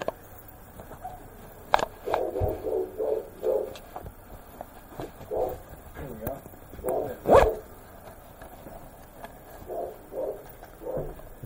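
A large muscular dog barks in a series of deep, loud woofs at irregular intervals outdoors, with people talking around it.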